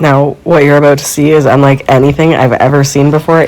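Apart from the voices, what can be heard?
None of the usual background noises is heard.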